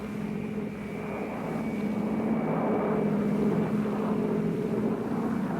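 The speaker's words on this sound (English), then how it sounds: "In one of the largest air-mobile assaults ever, 240 helicopters swept over Thanh Ninh province." A continuous low roar of military aircraft sweeping over a landing zone during a large air-mobile assault in the Vietnam War, holding loud and fairly steady across the clip.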